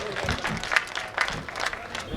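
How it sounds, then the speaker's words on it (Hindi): Audience clapping for a woman poet at a Hindi kavi sammelan, a moderately faint, scattered patter heard beneath a speaking voice. "आपकी प्रेम की तालियां उन्हें आमंत्रित करें"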